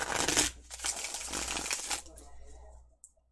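Tarot cards are shuffled by hand in a quick riffling burst, followed by softer sliding and shuffling that fades into quiet near the end.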